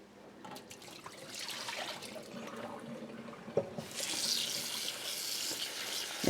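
Tap water runs into a kitchen sink while raw chicken is rinsed, a faint, steady splashing that grows brighter and fuller toward the end, with a few small knocks.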